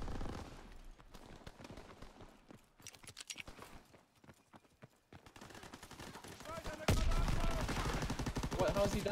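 Rapid bursts of submachine gun fire in the World War II shooter Call of Duty: WWII, sharp repeated shots mixed with game effects and footsteps, building to a loud dense stretch near the end.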